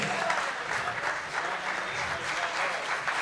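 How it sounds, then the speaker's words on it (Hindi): An audience at a university poetry event applauds the poet Naeem Akhtar Deobandi, a continuous, fairly distant roll of clapping with no pauses. "एक बार जोरदार ताली हो जाए सर के लिए"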